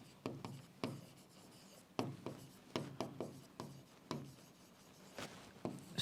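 Chalk or marker writing on a board during a mechanical engineering heat transfer lecture, a series of scratchy, tapping strokes in short bursts, fairly close, with no talk.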